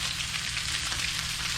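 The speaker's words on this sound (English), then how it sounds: "I just want to sear those really hard on each side so it makes a nice crunch" Black grouper fillets sear in a hot pan with a loud, steady, close sizzle that holds unbroken throughout.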